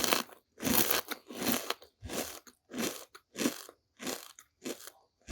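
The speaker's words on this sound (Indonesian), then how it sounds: "Sambal keju bawang super kriuk guys, ada yang suka nggak nih?" Crispy fried onion and cheese sambal being bitten and chewed up close, a loud, dry crunch repeating in about eight steady bursts with short quiet gaps between, no talking.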